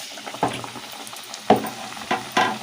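Bottle gourd bajji frying in hot oil, a continuous close sizzle with several louder bursts of crackling as pieces drop into the oil.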